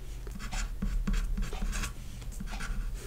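Pen or marker writing out math equations while working an olympiad inequality problem, steady close scratching strokes in short bursts over a low background hum, with no voices.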